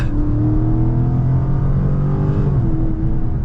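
A 2023 Dodge Charger Scat Pack Widebody Last Call accelerates hard, its engine droning loud and close with a sustained whine layered over the rumble, the pitch shifting slightly as it pulls.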